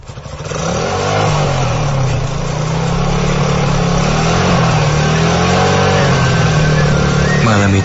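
An ojek motorcycle engine revs up at the start, then runs as a loud steady drone that gently rises and falls while riding at night, with no one talking.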